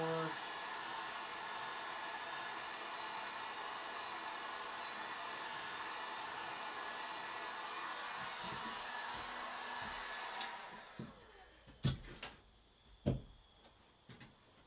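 A heat gun blows hot air onto a workpiece in a workshop, a steady loud broadband rush that runs unbroken for about ten seconds before cutting off, leaving a few sharp knocks and faint hum.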